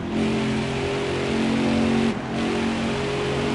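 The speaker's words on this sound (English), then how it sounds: "Oh, my RPM just sounds totally bogged down." A race car's engine in a racing video game drones at a steady, strained pitch as if bogged down, loud and close, with a brief dip and recovery near the end.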